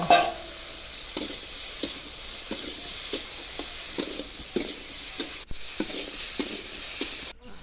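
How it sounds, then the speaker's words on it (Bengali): Potato, eggplant and cauliflower with chili powder fry in a pan, a soft continuous sizzle broken by regular sharp scrapes of a spatula stirring them, close and unaccompanied by speech. "তারপরে একটু নেড়ে চেড়ে ভালো করে সবজিগুলো ভেজে নেব"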